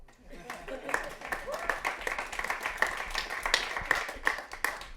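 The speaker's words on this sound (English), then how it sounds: "That's the moment where you clap." Audience clapping at a tech talk on image search, a scattered run of hand claps rising and holding under the presenter's ongoing speech.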